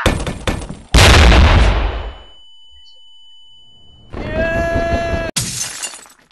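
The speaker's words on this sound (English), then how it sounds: "Flashbang." Flashbang grenade going off in a video game: a sharp loud burst that decays into hiss, followed by a high ringing tone and a few more bursts and clattering effects.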